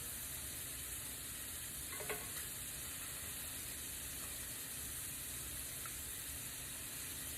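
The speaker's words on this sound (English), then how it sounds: "Doesn't take long for shrimp to fry." Shrimp sizzle steadily in a hot pan for a crawfish étouffée, a constant hissing fry with a couple of faint clinks from tongs.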